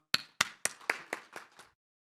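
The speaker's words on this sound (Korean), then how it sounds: "하나님께 감사와 영광의 박수 올려드리겠습니다." Church congregation at a Wednesday evening service, seven sharp claps in an even rhythm that grow gradually softer before falling to silence, clear and close with no voices.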